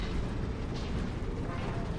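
Dense, continuous rumbling bursts of laser cannon fire in Warhammer 40,000: Space Marine, loud and unbroken, with heavy low-end booms layered throughout.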